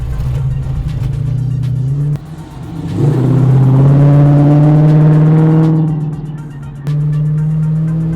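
A Chevrolet K5 truck with a vintage-style body and modern running gear accelerates out of a turn on a Texas back road, its engine note climbing into a loud, rising rev before settling back to a steady cruise.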